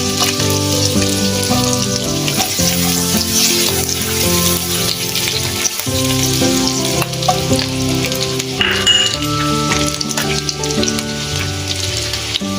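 Chopped ginger and garlic sizzling steadily in a hot pan for Chinese fried rice, a loud continuous fry with stirring scrapes and background music over it.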